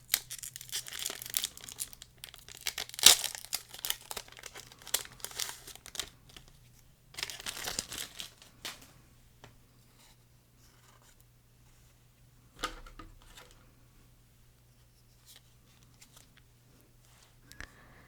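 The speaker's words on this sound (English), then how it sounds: "So let's go ahead and open up the first pack" A Riftbound League of Legends card pack is torn open, giving close crinkling and ripping foil sounds in bursts, with a sharp tear near the start and quieter rustling afterwards.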